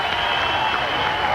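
A crowd applauds steadily at a 1996 bowling championship match, the Track Synergy Open, a dense, even wash of clapping filling the space, with a voice talking faintly over it.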